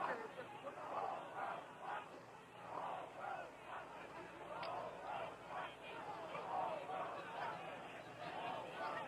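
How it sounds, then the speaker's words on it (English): Protest crowd outside a hotel chanting a rhythmic slogan in unison, repeated in steady pulsing waves at a moderate distance under a continuous murmur of voices. "And the persistent chanting by the crowd, the whole world is watching."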